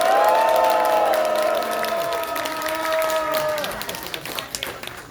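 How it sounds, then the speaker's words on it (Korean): A crowd of party members at a political party's founding rally claps and cheers for the press, with ringing tones sounding over them at first. The applause fades into scattered, sharper individual claps toward the end. "언론인 방송 관계자 여러분께 여러분 뜨겁게 박수를 보내주시기 바랍니다."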